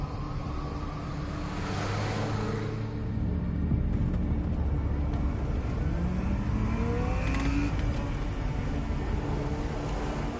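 An old car engine in the game Life Is Strange drones and revs, a rough, steady rumble that rises in pitch as it accelerates, heard on its own.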